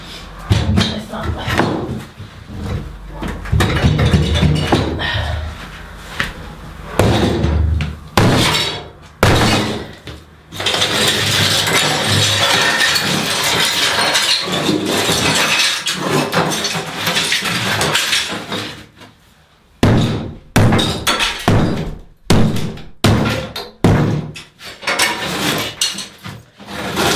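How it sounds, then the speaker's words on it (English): Old bathroom tiles are pried off with a crowbar in a rural house renovation: a dense, long run of loud scraping, cracking and banging, with bursts of heavy impacts and brief pauses between them. "Tiles off first. Need my crowbar somewhere."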